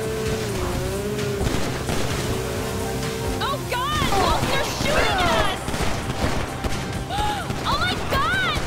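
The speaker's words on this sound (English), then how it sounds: "Oh, they're shooting us." Gunfire in the video game GTA 5, bursts of shots crackling through a busy mix of music and engine noise while voices talk over them.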